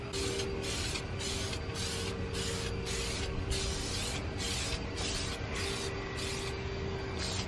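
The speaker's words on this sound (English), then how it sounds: "Now I'm just gonna lightly spray everything." Repeated short bursts of spraying detailer from a spray bottle onto an engine bay, about a dozen hissy pumps in a steady rhythm, close and clear over a low background hum.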